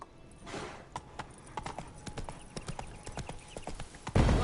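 Horse hooves clip-clop at a steady walking rhythm in The Witcher 3: Blood and Wine, a moderately close, fairly quiet series of hoof strikes on the ground, ending with a louder thump.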